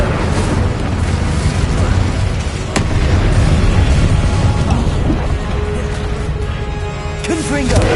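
An Incendio fire spell cast in Hogwarts Legacy, a loud sustained roaring whoosh of flames with booming bursts that fill the full length, while a voice talks over the top.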